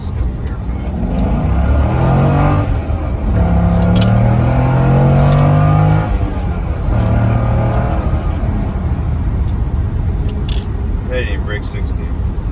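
A manual base C6 Corvette with the LS2 V8 pulls hard on a highway, its deep engine note rising through the gears close up from inside the car, steady and loud throughout.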